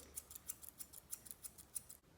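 Scissors trim the ear fur of a Nova Scotia Duck Tolling Retriever during grooming, with a quick run of about a dozen crisp, light snips, close and fairly quiet, with no talk.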